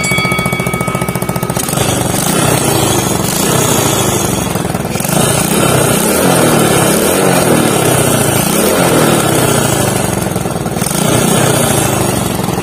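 A Rusi MPY motorcycle engine, a small carbureted bike under restoration, runs steadily at idle with a loud, continuous rattling putter that swells slightly in the middle.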